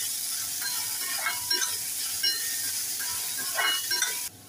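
Finely chopped onion sautéing in a pan for a dry shrimp dish with raw mango, giving a steady close sizzle and hiss with a few soft stirring scrapes. It stops abruptly at the end.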